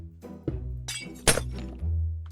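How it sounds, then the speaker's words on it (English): Glass blocks are placed in Minecraft, giving a few separate clinking, glassy thunks spaced out over a couple of seconds, close and clear with a low hum underneath and no talking. "Then you take your glass and you put it all on top of this"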